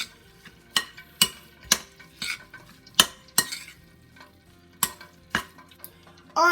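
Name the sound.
stirring Cajun seafood ball mixture with seasonings in a bowl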